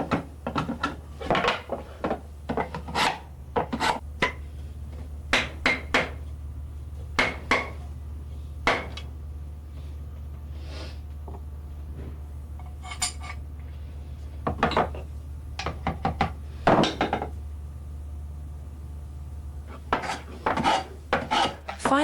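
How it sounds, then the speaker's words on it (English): Woodworking hand tools scrape and rasp against a wooden hand plane as its sole, sides and top are planed flat and its corners chamfered, giving repeated short strokes in irregular bursts over a low steady hum, close and fairly loud. "The sole, sides, and top are planed to create a clean, beautiful surface. The corners are chamfered and neatened."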